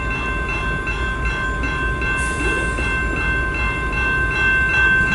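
A CN westbound mixed freight train rolls past close by as its final cars go by, a steady, loud rail rumble with faint high tonal whines and no voices.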